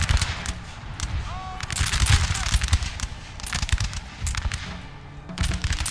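Napoleonic cannon and massed musket fire in Napoleon: Total War, heard as rapid, crackling volleys of sharp reports with deeper booms mixed in. The rhythm is irregular and the sound is dense and close.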